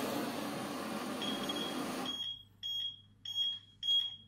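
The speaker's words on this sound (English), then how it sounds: "And when it's higher than 130, obviously it's making alarm." A temperature sensor alarm from an Arduino-based Android tablet app on a truck sounds a series of short, evenly spaced high beeps, loud and close, after a stretch of broadband noise.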